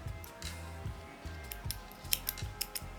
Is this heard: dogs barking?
no